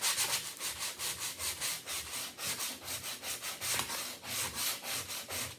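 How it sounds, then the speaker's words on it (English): Rhythmic back-and-forth rasping of sandpaper rubbed by hand over a painted wooden rustic heart craft, quick even strokes repeating steadily, close and moderately loud with no speech. "I'm just gonna keep sanding"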